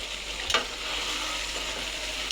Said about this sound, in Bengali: ঢাকনাটা উঠিয়ে আমি একটু নাড়াচাড়া করে দেব।